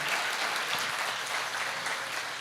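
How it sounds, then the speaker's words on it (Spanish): A church congregation applauds loudly and steadily, a dense wash of many hands clapping together without a break. "Denle un aplauso al Señor bien fuerte."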